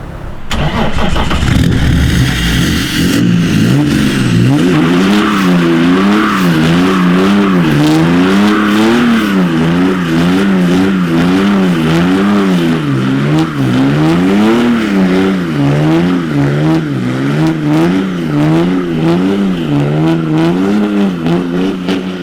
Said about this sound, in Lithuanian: dabar laikas padegt padangas